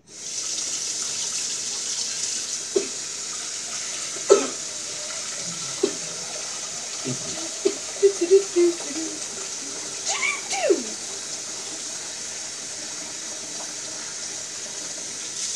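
Tap water runs steadily into a cooking pot for a long stretch, a constant hiss broken by a few small clinks and knocks of the pot.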